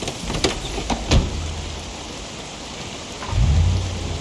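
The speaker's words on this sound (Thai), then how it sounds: "ฝนตกหนักพายุเข้า" Heavy rain and rolling thunder in the zombie survival game Project Zomboid, with a steady downpour throughout, a couple of sharp thunder cracks near the start and a deep rumble building toward the end.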